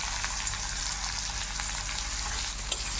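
Black cumin and chopped onion frying in hot oil, a dense, even crackling sizzle heard close up and alone, with a few sharper pops.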